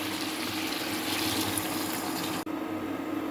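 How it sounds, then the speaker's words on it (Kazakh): A little water is poured into a cooking pot of gravy, a continuous rushing splash heard up close with a brief break near the end. "Енді мінекей азырақ суымызды құйып жібереміз."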